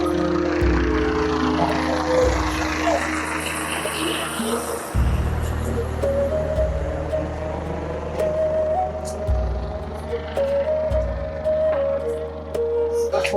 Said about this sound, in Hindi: हर 5 मिनट में आपको हेलीकॉप्टर दिखाई देगा।